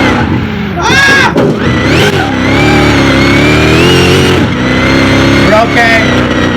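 A roaring 2,000-horsepower Hellhawk SUV engine revs hard through rising gear pulls during a mile drag race, loud and close, with shifts audible and a voice shouting over it.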